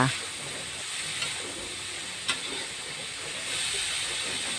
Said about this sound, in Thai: ถั่วงอกกับแครอทซอยเล็กๆเนี่ยเราใส่ลงไปพร้อมกันเลย ไฟแรงๆนะคะ ผัดให้ทุกอย่างเข้ากันดีอีกครั้งหนึ่งค่ะ